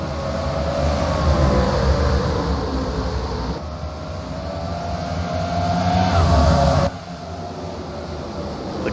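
Race trucks roaring around Bristol dirt track during a heat race, a loud continuous engine drone with shifting pitch as the pack passes.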